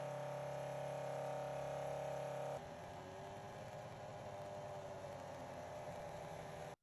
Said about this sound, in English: what you hear there is the compressor pump from the accumulator tank filling up to 60 liters to the water boiler